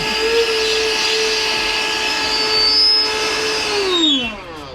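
An ETENWOLF Vortex S6 air inflator runs close up with a steady high-pitched motor whine and airy suction through its hose, the pitch dropping as it winds down at the end.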